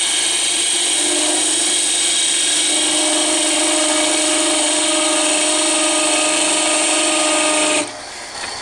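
A wood lathe spins a penguin Christmas ornament blank while light cuts trim the end near the live center, giving a loud steady high-pitched whine with harmonic tones that drops away abruptly near the close.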